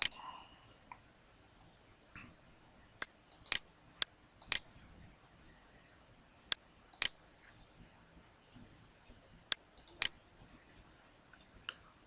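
Sharp, faint computer mouse clicks, scattered singly and in quick pairs across a quiet background with no talking during the clicks.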